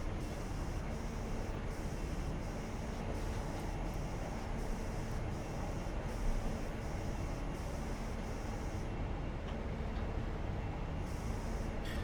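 A diesel train engine in the Train Simulator 2020 game rumbles steadily, running as a dense, even drone with a faint rhythmic beat throughout and no speech.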